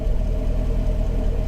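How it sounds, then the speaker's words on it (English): A Chevrolet C6 Corvette with a high-mileage, quiet stock exhaust idles heard from right beside the tailpipe, a steady low rumble that is fairly subdued, with no talking. "a Corvette shouldn't sound like this. I'm standing right by the exhaust."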